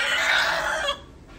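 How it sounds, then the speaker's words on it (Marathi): A rooster gives a loud, close crow that rings for about a second, then cuts off into quiet background. "आज बघा कोंबडा"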